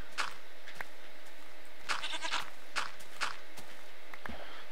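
A goat in a Minecraft modpack game gives a short bleat amid light clip-clop footsteps, fairly close and alone with no talk.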